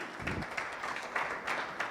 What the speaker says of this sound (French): Applaudissements nourris